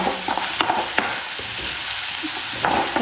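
Onions sautéed with salt in a pan for a Kerala chammanthi, with a close crackling sizzle and repeated scraping, clattering stirs of a spoon against the pan, no voices.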